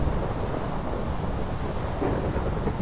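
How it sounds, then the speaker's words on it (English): Steady rain with rolling thunder in a survival video game, a dense low rumble under constant hiss, loud and unbroken with no voices. "Unfortunately, it is raining."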